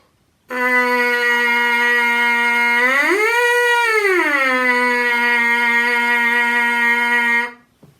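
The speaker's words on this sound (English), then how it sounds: "And when you do that into a mouthpiece," Lips buzz into a trumpet mouthpiece, a steady tone rich in harmonics holding one pitch, bending up and back down midway, then carrying on for several seconds with no talking.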